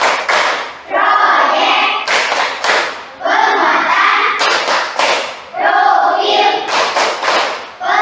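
Schoolchildren clap in a quick rhythmic pattern, bursts of claps alternating with loud group chanting in Indonesian, close and energetic.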